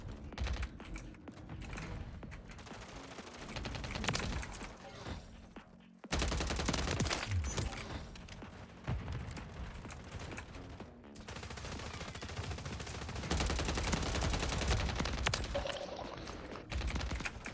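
Video game gunfire from a shotgun and a pistol, dense and continuous, with loud overlapping bursts of shots and blasts running through the whole stretch, no voices on top.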